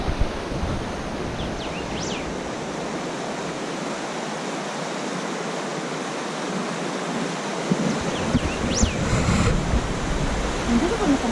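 River water rushes steadily through the Atuel canyon at Valle Grande, a broad continuous roar at close range with no speech, just a few faint chirps and small bumps toward the end.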